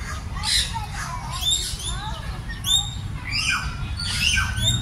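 Green parrots perched in a row give repeated sharp squawks and chirpy calls. The nearby, overlapping cries rise and fall over faint background noise.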